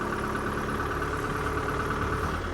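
A tractor engine runs under heavy load while trying to lift a large log hooked by cable to its front bucket, a loud, continuous low rumble that drones steadily without pause and with no speech.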